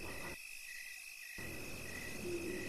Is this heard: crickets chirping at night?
yes